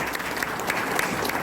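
Applause breaks out at a political rally in a Seoul hall, a dense, steady clatter of many hands clapping together.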